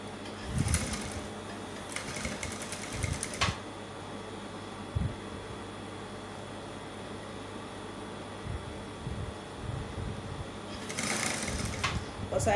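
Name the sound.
sewing machine stitching bustier lace dress along curve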